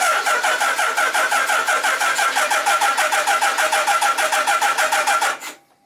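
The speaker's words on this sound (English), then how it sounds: "hopefully she'll start up with that new set of plugs" A 1976 Kawasaki KZ motorcycle fitted with a new set of spark plugs cranks on its starter in a fast, steady, rhythmic churn for about five seconds without catching, then cuts off abruptly; close and loud, with no talking.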